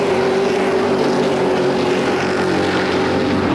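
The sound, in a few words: late model race cars racing on speedway track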